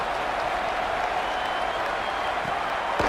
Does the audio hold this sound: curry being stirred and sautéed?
no